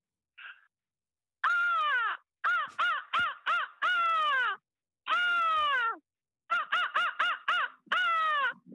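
A person imitates a seagull's cry with a series of loud, nasal, wailing calls in repeated bursts and short pauses, up close with no background noise.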